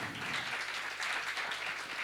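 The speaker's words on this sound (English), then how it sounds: "So an applause now" An audience at a competition's final event applauds, a soft, steady patter of many hands clapping heard from a distance, with faint cheering mixed in.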